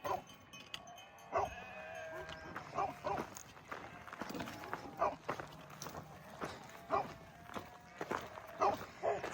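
A flock of sheep moving along a ridge trail with herding dogs, scattered bleats and barks popping up among footsteps and a light outdoor hush, moderately close.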